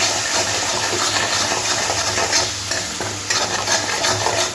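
Salt being stirred into tomato masala frying in a pan for a rohu fish curry, a steady close sizzle with scraping spoon strokes running throughout, no voices.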